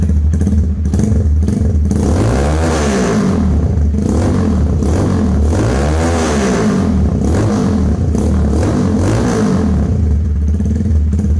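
A Kawasaki Ninja 250cc replica motorcycle engine is revved hard toward full throttle up close, loud and continuous, with repeated rising and falling sweeps of engine pitch and mechanical clatter, no voices.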